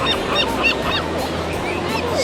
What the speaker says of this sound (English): Look at the seagulls.